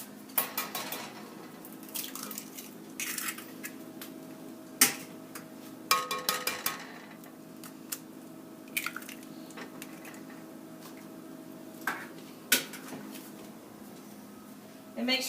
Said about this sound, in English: Now we're going to go ahead and add our 2 eggs.